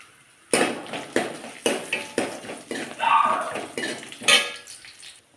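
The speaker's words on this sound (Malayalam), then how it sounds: "അതിലൂടെ കുറച്ച് തേങ്ങ ചിരുകിയത് അതും കൂടെ ഇട്ട് കൊടുക്കാം" Grated coconut tipped into a pan of spluttering mustard seeds, heard as a string of sharp metallic clatters and scrapes against the pan with a soft frying crackle between them, close and fairly loud, with no one speaking.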